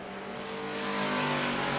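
Race cars at New Smyrna Speedway roar steadily past, a dense, loud engine drone with rising revs that swells slightly over a couple of seconds, no voices over it.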